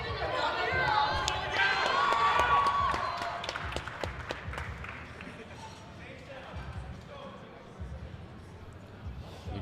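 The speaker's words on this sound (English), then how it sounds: "Let's give it a round of applause." A crowd at a powerlifting championship squat attempt applauds and cheers loudly at first, then fades to scattered claps under the clatter of a busy gym hall, with voices murmuring throughout.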